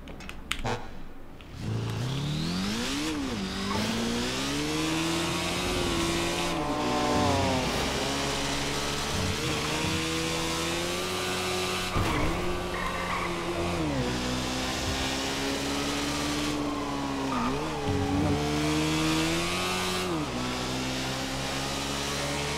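Video game car engine revs and climbs through gears with rising and falling pitch sweeps, a continuous mid-level drone punctuated by shifts and brief tire squeals, with no voices.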